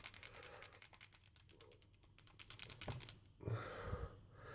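A bottle of model paint with thinner and a nut inside shaken hard to mix pigment, giving fast, rhythmic rattling clicks for about three seconds before a brief handling clatter.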